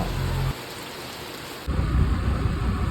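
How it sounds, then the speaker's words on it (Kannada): Heavy rain roars steadily and loudly, dipping briefly before surging back as a thick, continuous downpour close by. "ಹಿರೇಮಗ್ನೂರಲ್ಲಿ ತುಂಬ ಮಳೆ ಬರ್ತಿತ್ತು"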